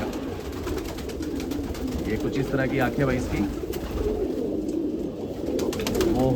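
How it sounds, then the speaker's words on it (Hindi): A Hyderabadi black fighting pigeon hen coos in low, repeated throaty bursts beneath someone talking close by. "हैदराबादी काली, बहुत ही बढ़िया, बहुत ही बेहतरीन कबूतरी है"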